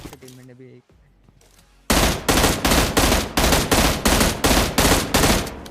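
After a brief lull, loud rapid bursts of automatic gunfire from PUBG Mobile Lite, repeated in quick regular volleys, close and dominant.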